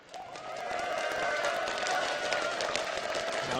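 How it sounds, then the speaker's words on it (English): An esports arena crowd cheering for Azubu Frost in a League of Legends match against SK Gaming, a broad wash of applause and cheers swelling after a quiet start and holding steady. "if you want to see Azubu Frost take 2-0, taking SK Gaming, give them a cheer"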